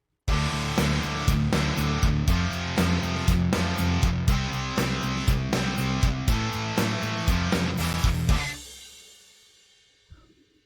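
A newer mix of a rock song plays back, full and loud, with driving drum hits under a dense band texture, then stops abruptly and rings out into a fading tail.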